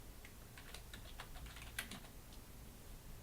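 Typing on a computer keyboard while entering text in a word processor, a light scattered series of close key taps over a faint steady hiss, with no voices.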